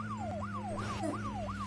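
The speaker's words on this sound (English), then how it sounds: "I can put the sirens on." A police car siren in the video game Broke Protocol wails in a fast repeating rising-and-falling sweep, about four cycles, loud and close over a steady low engine hum.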